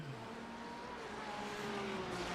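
An LMP2 prototype race car in the iRacing sim at Sebring draws closer, its steady engine tone holding with a rising pitched whine amid continuous engine drone and faint tire noise, with no talk.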